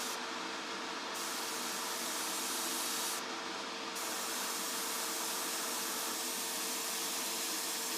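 A steady airbrush hiss of paint spraying through a 0.5 needle onto a 1:12 scale Tamiya Yamaha RZ250 model, continuous and close, with two brief dips in the highest hiss early on.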